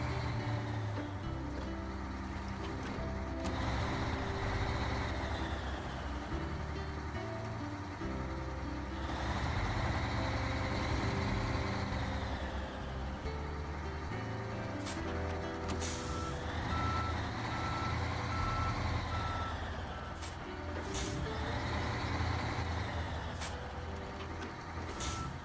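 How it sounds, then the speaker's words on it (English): Steady reversing beeps from a truck backing a trailer in a video game, repeating evenly over a constant low engine drone for the whole stretch, with occasional sharp clicks. "I hate backing trailers that have tongues, man."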